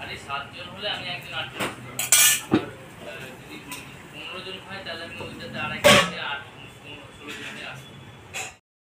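A metal lid comes off a cooking pot of simmering jute-leaf curry, giving a few sharp metallic clinks and scrapes in a kitchen, with quiet background noise between the bright clanks.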